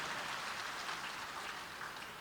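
An audience at a church sermon gives faint, steady applause, a soft distant patter of many hands that holds evenly without voices over it.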